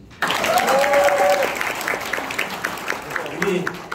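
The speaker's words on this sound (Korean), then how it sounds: "더 큰 박수" A seminar audience bursts into loud, dense applause that starts abruptly and stays strong before easing off, with voices calling out over the clapping.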